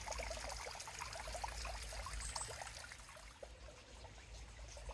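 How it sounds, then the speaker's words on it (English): Water from park water features trickles and splashes steadily at the bottom of a cascade, a continuous bright babbling flow near the listener with no talk. "So we'll let that water trickle off into the hotel"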